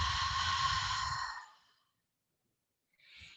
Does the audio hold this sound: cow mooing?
no